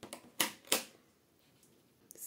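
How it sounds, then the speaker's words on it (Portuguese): Scissors cut crochet thread with two quick, crisp snips close to the mic in a quiet room, followed by faint handling clicks. "Vou cortar a linha"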